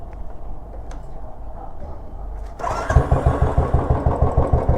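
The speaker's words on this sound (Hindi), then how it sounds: "ये एग्जॉस्ट फिट हो चुका है। अभी आप लोग को इसका साउंड विदाउट डिबिकुलर सुनाता हूँ" Royal Enfield Classic 350 BS4 motorcycle with a newly fitted aftermarket exhaust, cold-started after a low background rumble, then settling into a steady, loud, rhythmic thumping idle up close.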